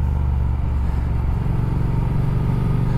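A Triumph Speed Twin motorcycle engine with a freshly flashed ECU runs close and loud, a steady throbbing idle with light throttle blips and mechanical clatter underneath.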